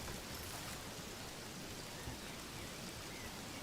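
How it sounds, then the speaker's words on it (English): Rain pours steadily in the video game Among Trees, a dense, even hiss of falling drops that stays constant and fairly loud throughout, with no voices over it. "Oh, I think it's raining."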